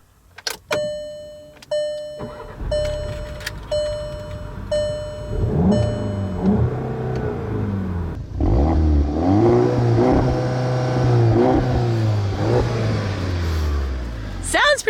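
A 2015 Volkswagen Golf GTI two-door with a manual clutch, starting with clicks and a brief whirr before the engine catches, settling into idle, then being revved in rising and falling sweeps up close.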